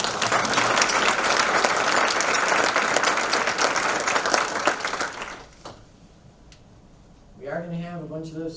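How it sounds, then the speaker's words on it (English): Audience applause fills a medical college all-college meeting, a dense, steady round of clapping honoring the admissions committee that lasts about five seconds, fades to near quiet, then gives way to a voice speaking. "if we can give the admissions committee a separate round of applause"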